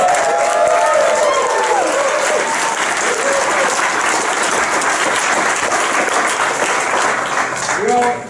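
An audience applauds at a military retirement ceremony for a senior master sergeant, filling a hall with dense, steady clapping, with a few voices mixed into the crowd before it tapers off.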